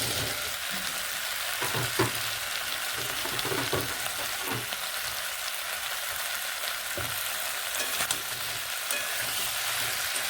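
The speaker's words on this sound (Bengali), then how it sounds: "আলুর সঙ্গে পেঁয়াজ কলিগুলোকে এইভাবে মিশিয়ে নেড়ে নিচ্ছি" Onion stalks and potatoes fry together with tomatoes in a pan, making a loud continuous sizzle like heavy rain. A spatula scrapes and stirs now and then, and no one speaks.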